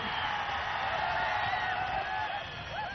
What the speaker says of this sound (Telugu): గట్టిగా చప్పట్లు కొట్టి హర్షాన్ని ఆమోదాన్ని తెలియజేయాలి